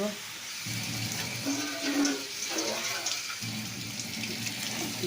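Water pours into a pot of red lentils (masoor dal), a steady running-water rush that swells and eases over a few seconds, with low background hum.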